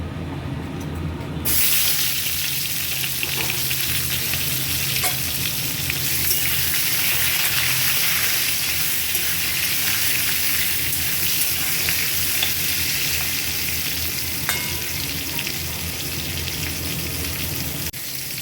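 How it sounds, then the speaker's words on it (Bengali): Pointed gourd pieces fry in oil in a wok, a loud sustained sizzle close by with occasional stirring scrapes, steady for the whole stretch. "প্রথমে আমি পটলগুলো হালকা ভেজে নেব"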